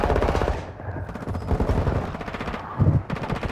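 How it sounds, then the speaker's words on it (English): The super gun in a video game fires dense, continuous rapid bursts of automatic gunfire, loud and sustained throughout. "super gun takes so long to reload"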